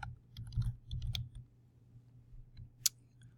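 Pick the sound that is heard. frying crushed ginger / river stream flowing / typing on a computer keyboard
typing on a computer keyboard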